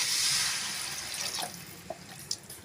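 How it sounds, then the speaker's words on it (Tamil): Water is poured into a pan of sautéed egg gravy masala, a soft splashing pour that tapers off into a few faint drips and gentle liquid sounds. "நம்ம கிரேவிக்கு தேவையான அளவு தண்ணி சேர்த்துக்கலாம்."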